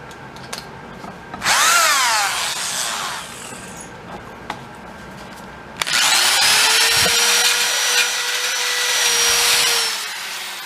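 A power drill bores holes through metal panels on a 1962 split window bus, two loud whining bursts, a short one then a longer sustained run, close up in a quiet workshop.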